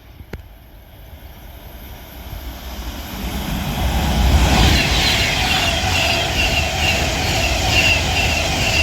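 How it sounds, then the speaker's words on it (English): An Avanti Pendolino electric train passing through Lichfield Trent Valley station, a rising roar that swells over a few seconds and holds as a loud, steady rush with a high whine, no voices. "Now passing through is going to be another Avanti Pendolino."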